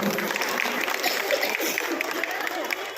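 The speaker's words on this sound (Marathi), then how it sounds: "टाळ्या चालू राहू द्या प्लीज" Steady applause from a crowd fills the whole stretch, sustained clapping without pause, with a voice faintly audible beneath it.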